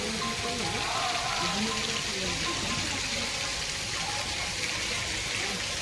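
Water pouring down steadily at a Radha Krishna temple, a continuous broadband splashing wash close by, with a faint voice murmuring underneath.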